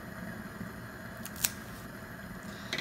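A single crisp snip as a CAO Amazon Anaconda cigar is cut, a quiet close click standing alone in a soft room hiss, followed by a faint second click.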